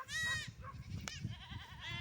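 A goat bleats loudly and close up in a rural farm setting, with one wavering cry at the start, a quieter call near the end, and a brief rattle in between over low background noise.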